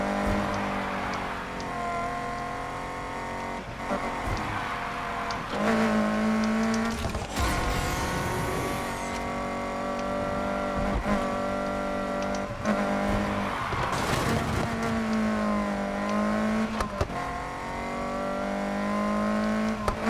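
A car drifts in Need for Speed Heat: a revving engine rises and falls across the stretch, broken by tire squeals and skid bursts, loud and close, with no voices.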